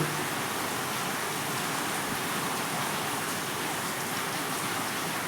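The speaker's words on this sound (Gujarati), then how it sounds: "ધોધમાર વરસાદ પડે છે।" A dense, unbroken roar of heavy monsoon rain in Khamidana village, Keshod taluka, keeps a constant wash of noise going for several seconds, with no voices.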